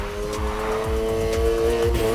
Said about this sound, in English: Start the drift, slam on the gas once and steer, then back on the gas quick to maintain.